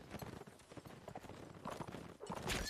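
Horse hooves in Mount & Blade: Napoleonic Wars clatter in a rapid, uneven galloping rhythm amid busy, faint battlefield noise, with a louder burst of clatter at the end.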